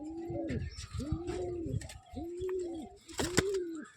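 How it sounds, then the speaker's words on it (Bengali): Close, clear cooing from home-kept Madras pigeons: four or five rounded, throaty coos in an even rhythm, with a brief sharp rustle near the end and no talking. "এগুলো আমার বাড়ির মেন পায়রাই"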